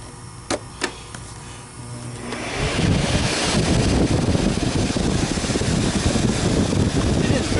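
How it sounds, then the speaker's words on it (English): A couple of faint clicks, then an Electrolux UltraOne Deluxe canister vacuum motor starts and settles into a steady, breathy whoosh that carries on to the end. "we're going to do the exhaust of the vacuum."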